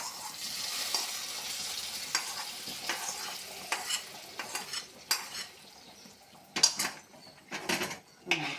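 A spoon stirs a payasam mixture in a pot with repeated scraping and clinking strokes at an irregular pace, each stroke a short bright burst over a soft background hiss.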